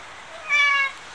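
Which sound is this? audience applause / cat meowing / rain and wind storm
cat meowing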